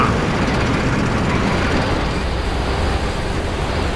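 Armored vehicle motor running steadily in the WWII strategy game Codename: Panzers, a dense continuous rumble at even loudness throughout with no clear start-up.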